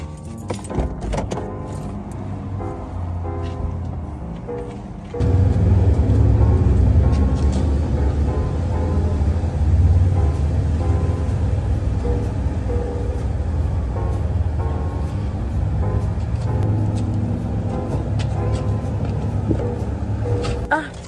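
A car drives along on the way to an open house, its steady interior engine and road rumble jumping louder a few seconds in after light clicks and rattles, then holding a constant drone.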